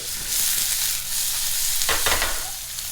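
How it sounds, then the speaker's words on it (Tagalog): Steady loud sizzling of tofu frying in hot oil, close by, with a brief scrape of stirring. "Ito po yung tokwa. Prito na."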